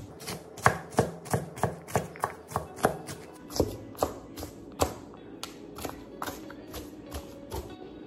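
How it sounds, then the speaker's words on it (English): A kitchen knife dicing a white onion on a cutting board, giving a quick run of sharp, close chops that slows into more spaced single cuts, with no talking. "I'm just going to dice my white onion."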